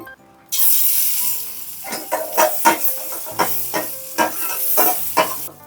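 Butter melting in a hot pan on a stove sizzles and hisses steadily, with stirring scrapes and spatters rising and falling close by, no voices.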